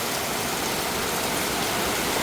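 Steady rain falls in a dense, even hiss of drops, close and continuous throughout with no voices.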